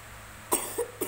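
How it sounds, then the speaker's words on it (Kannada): A child coughs three times in short, separate bursts, close by and fairly clear against a quiet room. "ಕೆಮ್ಮಾಗಿದೆಯಾ?"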